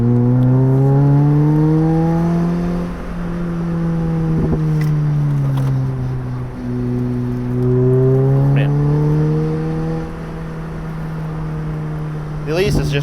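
A Lotus Elise convertible sports car drives with the top off on a mild December day, its engine droning steadily and rising and falling with speed, loud and close throughout, with no talk over it.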